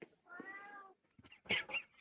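A cat gives a short meow followed by a couple of sharper, higher cries, close and clear in an otherwise quiet room.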